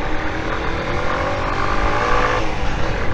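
A small 125cc motorcycle engine labors up a steep, wet hill carrying a heavy rider, a loud, steady, strained drone held close throughout with no voices.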